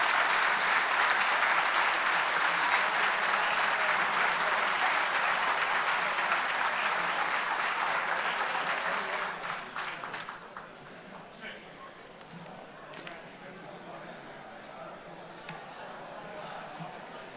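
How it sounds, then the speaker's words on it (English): Audience applause after the national anthem at a city's State of the City address, loud dense clapping for about ten seconds that fades to sparse claps and room noise. "One more round of applause for Melissa."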